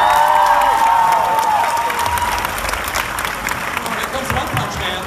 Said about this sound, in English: Give Ed a big round of applause.